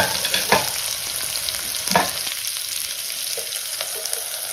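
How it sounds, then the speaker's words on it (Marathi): A paste of green chilli, ginger, garlic and coriander fries with onion for a spring-onion zunka, giving a steady close sizzle with a few soft stirring scrapes; no one speaks. "मिरची आलं लसूण आणि कोथिंबीर घालून बारीक केले मिक्सरला कांद्याबरोबरच भाजून घ्या"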